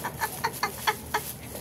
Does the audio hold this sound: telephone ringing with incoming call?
no